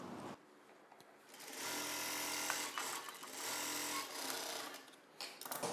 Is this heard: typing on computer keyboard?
no